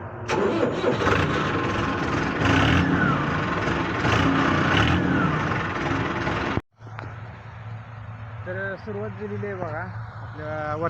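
A tractor engine cranks and roars to life on a sugarcane farm during harvesting, loud and close, then cuts off abruptly and settles into a lower steady rumble while people talk nearby.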